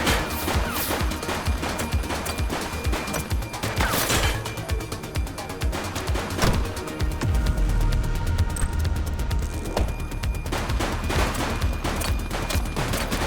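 Bursts of gunfire crack repeatedly in the police game The Precinct, with sharp shots and rapid volleys amid loud action noise throughout.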